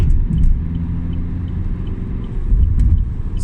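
A Vauxhall Zafira Tourer pulls hard from fourth gear as the driver floors it, and a deep, loud engine drone and road rumble build steadily from inside the cabin. There are a few faint clicks but no talking.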